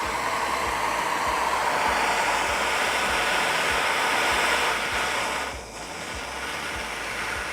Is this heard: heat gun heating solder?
yes